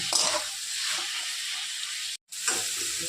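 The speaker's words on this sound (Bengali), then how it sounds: "এখন মাছ দিয়ে ভেজে রেখেছিলাম মোরলা মাছটা দিয়ে একটু কষিয়ে নেব।" Morola fish frying in a pan with onion paste produces a continuous close sizzle and hiss, broken by a sudden brief silence before the frying noise returns.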